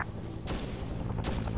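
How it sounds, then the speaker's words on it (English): Video-game gunfire crackles in bursts of shots from a distance, with a louder volley near the start and another toward the end, over a steady low rumble with no talk. "Never mind, I hear gunfire."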